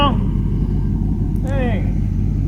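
A G-body car's engine idles steadily after sitting for 22 years, a loud, even low rumble throughout with a brief higher squeal partway through.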